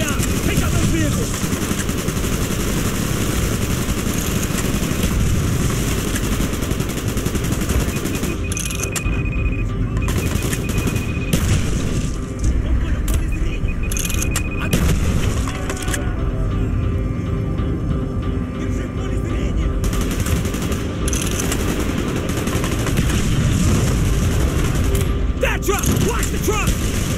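Sustained gunfire and battle noise from the video game Call of Duty Black Ops, a dense, loud, continuous mix of weapon fire and mechanical clatter throughout, with some voices mixed in.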